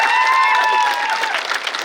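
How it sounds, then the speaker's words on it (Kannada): Loud applause from an audience at a university function, honouring a student who played Ambedkar; dense steady clapping with a few cheers fills the short stretch, easing slightly toward the end. "ಗೋಪಾಲ್ ಉಣ್ಕಲ್ ಅವರಿಗೆ ಜೋರಾದ ಚಪ್ಪಾಳೆ"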